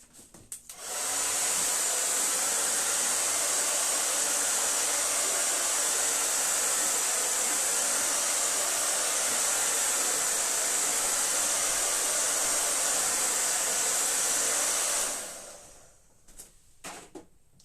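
A hair dryer blowing steadily on a painting of a foggy mountain, a loud close whooshing hiss running unbroken for about fourteen seconds before it clicks off and handling noises follow.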